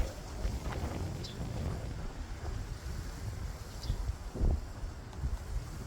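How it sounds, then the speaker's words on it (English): Wind blowing outdoors on a shoreline during a fishing trip, a continuous low rumbling buffet across the microphone that swells and eases in gusts, loud and close with no other clear sounds. "This wind died down a little bit."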